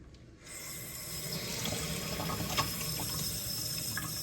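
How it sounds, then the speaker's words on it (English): Water pours from a tap into a cup, filling half a cup for sugar syrup, a steady hissing splash that begins abruptly and runs evenly for several seconds, close by and with no talk. "I'm going to fill half a cup of water up."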